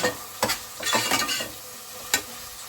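Onions golden-frying over a low flame for a first-time biryani: a soft, steady sizzle underneath, broken by a few sharp scraping stirs of a spoon against the pan, with no talk.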